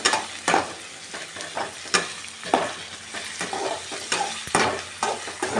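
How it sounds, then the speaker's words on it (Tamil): Onions sautéing over a low flame in a pan for a capsicum gravy, a steady close sizzle with repeated soft scrapes and stirs of a spoon breaking through at irregular intervals. "நல்லா லோ ஃப்ளேமில் வச்சு நல்லா வதக்குங்க"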